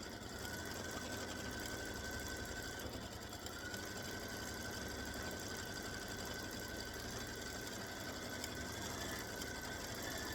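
A computerized quilting machine stitching an edge-to-edge design runs steadily, a continuous fast mechanical whir and rattle heard faintly throughout with no talking.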